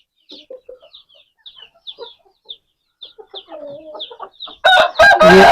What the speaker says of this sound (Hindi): ये ब्रीडर मुर्गा है माशाल्लाह